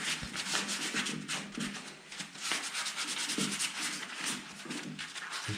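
Lambretta scooter bodywork being hand sanded with abrasive, a close, continuous scratchy rasp of rapid back-and-forth strokes with slight swells and dips, with no voices.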